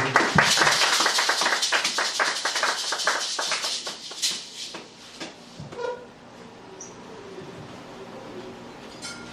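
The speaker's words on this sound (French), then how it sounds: "Est-ce qu'on peut applaudir?" An audience at a bible seminar claps, a brisk burst of applause that thins out and dies away after a few seconds, leaving quiet room sound with a few faint stray taps.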